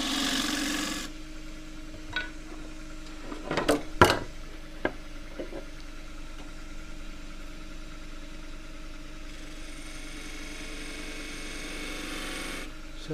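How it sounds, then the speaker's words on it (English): A skew shear scraper cuts a natural-edge claret ash bowl on a wood lathe, a rasping scrape over the lathe's steady motor hum, with a few sharp knocks and catches near the middle and a louder burst at the start. "So now, skewed shear scraper,"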